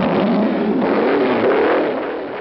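A 1930 Alfa Romeo P2 race car on a track revs its engine in a short, rising blare, close and loud for about two seconds. The thin, band-limited tone sounds like an old recording, then tails off slightly at the end.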